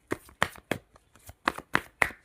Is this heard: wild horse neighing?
no